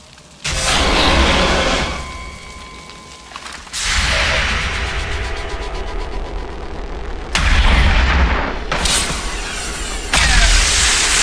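Several heavy booming video game explosions from XCOM 2 burst out one after another, each followed by a long rushing decay, loud and close with no talking.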